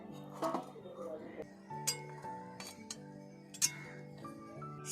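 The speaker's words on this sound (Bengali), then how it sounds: "সব ফুলকপিগুলো একটা একটা করে তুলে নেবো থালার মধ্যে" Boiled cauliflower pieces lifted one by one onto a metal plate, giving sparse metallic clinks and scrapes of utensil on plate at close range, with a few sharper taps over a low kitchen hum.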